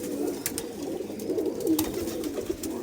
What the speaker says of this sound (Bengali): এটা মাদি পায়রা, পাঞ্জাব মালবাহী